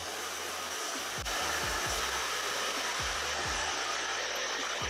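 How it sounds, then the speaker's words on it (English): A blow dryer with a comb attachment, used to stretch hair, roars steadily and loudly throughout, with a few soft whooshing sweeps as the airflow shifts. "I'm using a blow dryer with the comb on it so it could stretch my hair."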